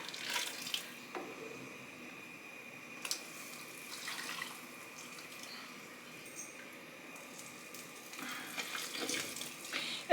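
Liquid poured into canning jars of beef stew in a home kitchen, a quiet, thin trickling stream with a few small clinks, fairly faint and without talk.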